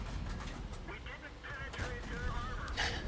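World of Tanks cannon shells fired and bouncing off armour: sharp metallic cracks and pings scattered across a few seconds, fairly faint, mixed with engine rumble and a player talking over the action.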